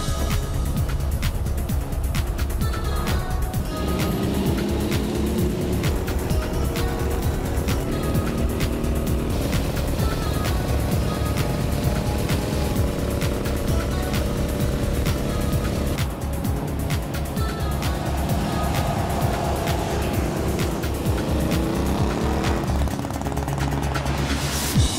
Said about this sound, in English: Rolling through the St. Augustine backroads with Grand Marshal Dennis Gage in the lead on his 73 Toaster Tank Beamer.